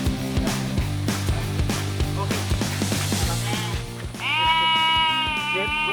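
Garut sheep bleating loudly and close, a sustained harmonic bleat rising near the end over a busy background of rhythmic music or noise.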